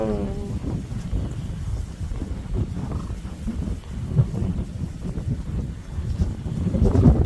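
Strong wind by the Hantan river in cold weather, a loud, steady roar and buffeting against the microphone that swells toward the end, with no talking.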